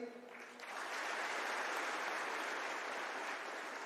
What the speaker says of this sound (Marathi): जोरदार टाळ्या होत्या एकदा साहेबांसाठी